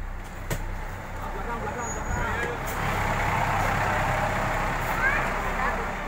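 Buses idle and move around the Kupu-Kupu Ayu bus company depot, with a low engine rumble, brief air-brake hisses and clicks, and people talking nearby.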